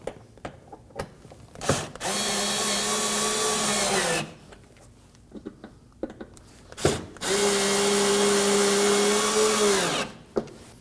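A power tool drives mud flap bolts tight on a 2014-2020 Acura MDX, running in two steady whirring bursts of about two and three seconds, separated by quiet clicks and handling noises.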